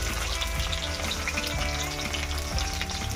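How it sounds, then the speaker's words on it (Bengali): Food is dropped into hot oil and fries with a continuous close sizzle and crackle, a few soft stirring knocks and spatters running underneath. "তেল গরম হয়ে গেছে, দিয়ে দিচ্ছি।"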